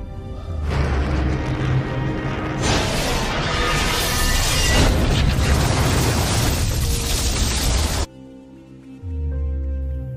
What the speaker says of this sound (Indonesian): roket terbang melewatinya dan ledakan pun terjadi